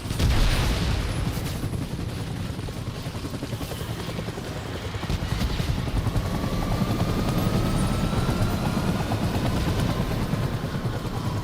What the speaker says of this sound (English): I didn't even know there was a helicopter there until I was right in it.